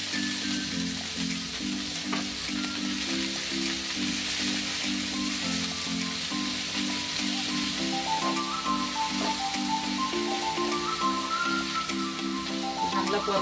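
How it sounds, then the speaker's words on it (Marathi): Chopped spinach sautéing with garlic in a hot pan, a steady loud sizzle and hiss throughout, with a rhythmic clatter of stirring and some background music or tones underneath. "लसूण थोडा परतला की आता हे पालक चिरून घेतलेला आहे ना तो घालून घ्यायचा आहे"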